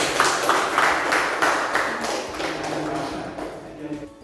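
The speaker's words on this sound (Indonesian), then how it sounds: "Tepuk tangan buat Raisa." A classroom of students claps for a classmate, a short burst of fairly close, dense applause that tapers off over a few seconds.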